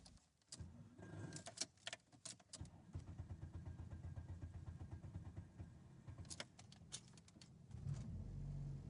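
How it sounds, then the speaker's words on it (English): A car's engine clicks and cranks, catches into a short rough idle, then dies out, followed by another brief cranking rumble; the mechanical noises are heard up close without any voices. "In short, the car deigned to stall."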